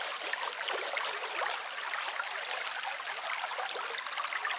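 Water streams through a homemade mining sluice in a steady rushing trickle with small splashes, close and constant throughout, with no voices.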